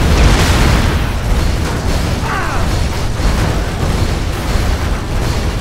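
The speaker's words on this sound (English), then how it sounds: "That's a loud explosion" A big bomb blast in the video game Dead Rising 3 rolls out as a loud, sustained rumbling boom with debris-like noise, dense and close, holding steady for several seconds without speech.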